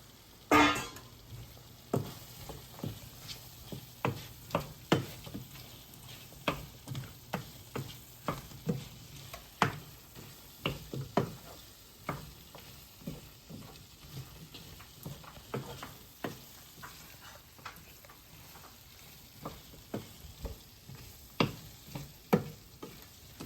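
Prawns stir-fried in a pan give a soft sizzle under repeated sharp scrapes and taps of a spatula, quiet and close, with no talking.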